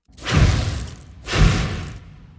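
Two processed fire arrow ability sounds for a Diablo 3 Demon Hunter redesign, treated with OTT compression and EQ: two loud, dense whooshing bursts, each about a second long, with thuddy low weight.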